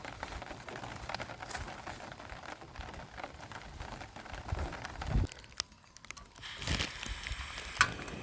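Steady rain patters softly in cold mountain weather, with scattered drips and occasional louder taps, including a few sharp knocks near the end.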